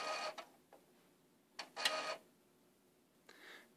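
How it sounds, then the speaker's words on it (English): An Epson Stylus Photo RX595 inkjet printer whirs in short mechanical bursts separated by quiet pauses, its carriage buzzing and clicking at close range. "in the background, you can hear the printer."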